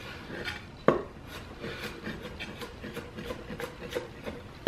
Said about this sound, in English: Again, we're just doing a rough chop.